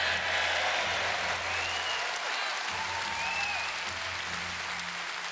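A crowd at a political speech applauds steadily, with dense, sustained clapping and a few whistles that fill the space and fade slightly toward the end.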